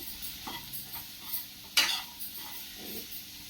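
A spoon stirs beetroot curry with green chili and coconut paste in a pan, giving soft scraping scuffs over a faint sizzle and one sharper clink partway through; close and fairly quiet, with no talking.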